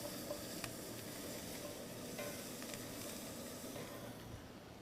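Bacon sizzles steadily in a pan, a soft continuous hiss with faint crackles throughout, low in level and without any talking.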